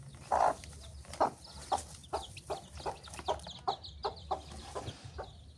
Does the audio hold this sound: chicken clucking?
yes